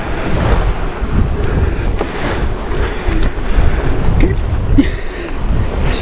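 Ocean swell and wind on a sailboat heading into the trade winds, a loud, continuous buffeting roar across the microphone with wash and surge of water beneath, no talking.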